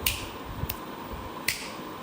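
Two sharp finger snaps, one just after the start and another near the middle, stand alone against a quiet room background.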